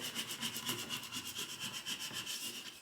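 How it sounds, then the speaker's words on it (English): A cut vinyl stencil rubbed down by hand onto a canvas for a camping sign, giving rapid rhythmic scraping strokes, close and steady. "Might have to do some more rubbing to get this stuck on here."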